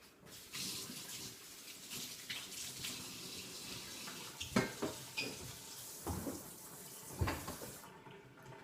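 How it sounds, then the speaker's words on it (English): Hands rinsed under a running kitchen tap, water splashing steadily into a sink with a few louder splashes and a clunk near the end before the flow stops. "let me rinse my hands"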